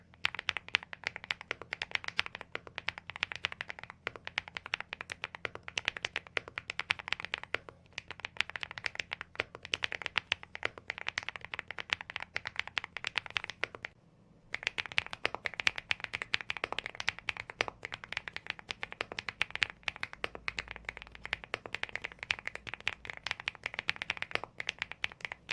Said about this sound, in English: listen to 2 consecutive loud typing sounds to get a sense of it.